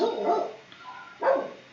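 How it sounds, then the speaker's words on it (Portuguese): Small dogs bark in two short bursts, a yapping cluster at the start and another about a second later, fairly close with a quiet gap between and no talk over them. "Os cachorrinhos também querem falar que estão latindo."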